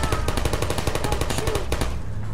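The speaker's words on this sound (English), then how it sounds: "Uh-oh, one turret shot another turret." Turrets in the Portal game fire a fast, loud stream of rapid shots at close range, ending abruptly after about two seconds and leaving a low background hum.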